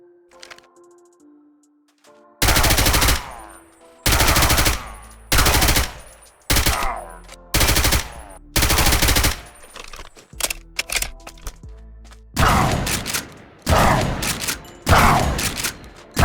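Video-game gunfire from assault rifle and shotgun in the Minecraft TaCZ gun mod: after a quiet start, loud close bursts of rapid automatic fire and heavy single blasts repeat with short gaps between them.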